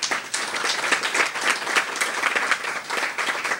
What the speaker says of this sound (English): I'd also like to thank Professor Dawes, if you could give him another round of applause